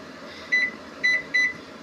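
A kitchen microwave oven gives three short electronic beeps, evenly spaced, over a steady low background hum, as its door is closed and numbers are keyed in.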